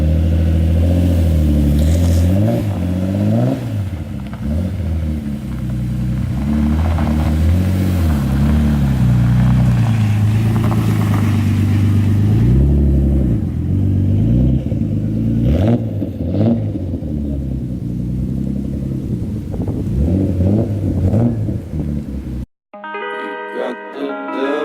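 A twin-turbo Nissan 350Z engine revs repeatedly, rising and falling close by for most of the stretch, with people talking over it before it cuts out near the end.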